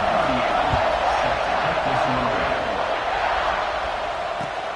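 A football video game stadium crowd roars steadily at kickoff as the Ducks prepare to kick off after a touchdown, a dense continuous cheer with a commentator speaking over it.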